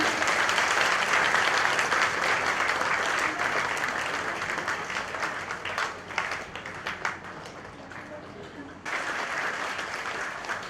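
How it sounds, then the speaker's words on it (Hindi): A crowd at a public programme with Haryana Chief Minister Nayab Singh Saini at the Brahma Kumaris centre in Karnal's Sector 9 claps loudly and steadily for about eleven seconds, thinning briefly near the end before surging back. "अपने लिए और भाई साहब के लिए जोरदार तालियां बजाएंगे सभी।"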